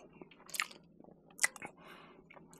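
Close, quiet chewing and biting of a nasi kandar meal, with soft crunchy bites and moist squishy mastication in a few irregular bursts, no talk.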